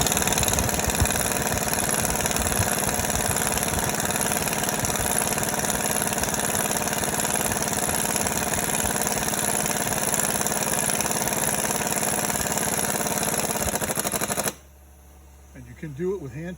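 A pneumatic air tool works on a Ford Explorer sway bar link nut, making a loud continuous rattling whir for about fourteen seconds that stops abruptly, leaving a quiet room with a voice starting to speak.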